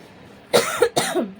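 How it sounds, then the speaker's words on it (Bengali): Two sharp coughs in quick succession, close and fairly loud, with no speech. "কাশি হয় দেখো একটুখানি খেতে পারলাম না কাশি হলো"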